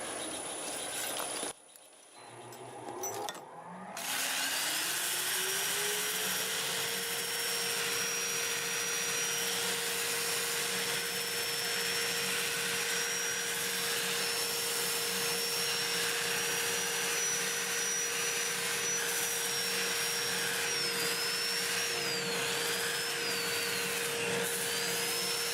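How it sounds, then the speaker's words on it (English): A wood lathe spins forward at 400 RPM while an oak piece is sanded, a steady loud motor hum that ramps up after a brief pause and then drones on evenly. "I'm running the lathe forward at 400 RPM."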